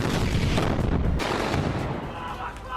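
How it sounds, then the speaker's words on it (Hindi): Israeli Givati Brigade soldiers fire weapons inside a house in Bani Suheila, Gaza, producing dense, booming bursts of gunfire with heavy low rumble that fade somewhat toward the end. "इजराइल की सेना की गिवाती ब्रिगेड के सैनिक मकान में घुसकर फायरिंग कर रहे हैं"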